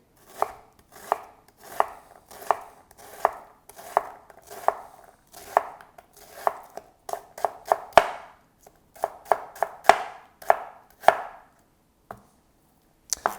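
A knife dices an onion on a cutting board in a steady series of close, crisp chops, about two per second, with a brief faster flurry midway and no talk.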